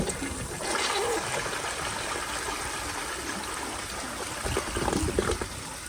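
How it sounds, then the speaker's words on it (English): A kindergarten toilet with an overfilled tank flushes while its handle is held down, giving a steady rushing gush of water that swells and surges near the end, close and loud. "here's another flush, but this time I'm actually going to hold the handle down"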